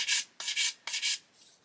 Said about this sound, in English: when I start sanding